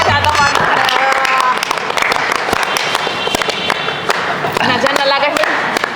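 Hand clapping in a wedding hall during a comic scene, with sharp, irregular claps scattered under lively, continuous talking.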